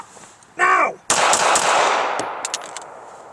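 A gun is fired from inside a car, one sharp blast followed by a second loud report that rings and decays, then a few faint clicks, close and loud within the cabin.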